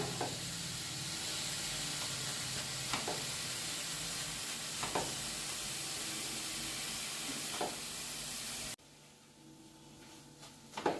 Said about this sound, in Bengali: গাজরকে আরেকটু ভাজতে হবে যাতে একদম নরম হয়ে যায়।